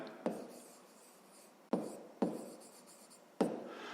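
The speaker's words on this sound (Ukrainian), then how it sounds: "Отже, записуємо тоді перша дія." Pen or pencil marks on paper while writing out a fifth-grade maths solution, with four sharp taps or strokes spaced apart and faint scratchy texture between them, close and quiet.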